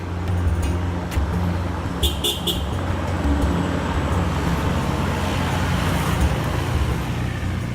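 Traffic streams past on a main road in Chiang Mai, Thailand, a loud, continuous rumble of cars and engines close by, with a few brief horn toots early on.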